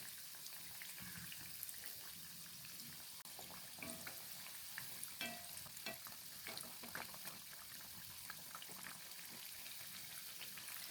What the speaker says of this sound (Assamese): তেতিয়া আমি পিঠাটো আকৌ ওলোটা ছাইডটো ভাজিম